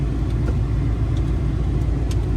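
A flood-damaged Ford F250 truck engine idles steadily with a low, constant rumble, close and unchanging throughout.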